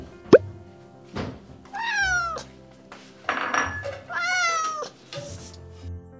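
Two ragdoll cats meow indoors, with several drawn-out, rising and falling calls spaced over a few seconds. A sharp tap and faint household clatter come in between the calls.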